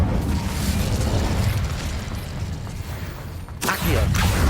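Incendio fire spell cast in the Hogwarts Legacy video game, a dense roaring burst of flame and impact noise that swells and persists, with a sharper crackling blast near the end.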